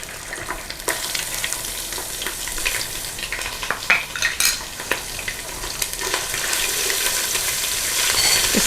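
Garlic and ginger paste frying in a pan for a jackfruit biryani, a steady close sizzle with occasional stirring scrapes and clinks, growing slightly louder toward the end, no talking.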